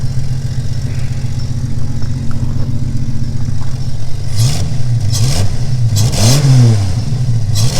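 A Jeep engine revs up several times from a steady idle, the loud, close exhaust carrying a slight leak rasp, with no talk over it.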